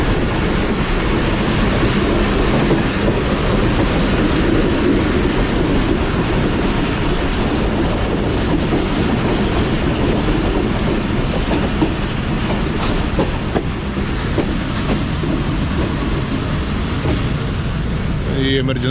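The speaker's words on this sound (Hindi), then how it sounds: "अभी ट्रेन हमारी सोहावा रेलवे स्टेशन क्रॉस कर चुकी" Tezgam passenger train running between Rawalpindi and Karachi, past Sohawa station, with a loud steady roar of wheels on rails and a constant clickety-clack rhythm filling the whole stretch, close and continuous.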